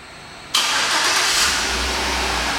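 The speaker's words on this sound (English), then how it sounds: "One of the many features in this vehicle is a remote start, which I'll demonstrate now" A 2010 Chevrolet Suburban LTZ started by remote start: a sudden loud crank catches into a steady engine rumble that settles toward idle, close by with no speech.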